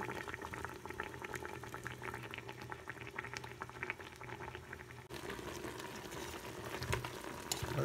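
Chicken simmering in yogurt in a pan, bubbling steadily with a dense, continuous sizzle and crackle of boiling liquid, close and even throughout.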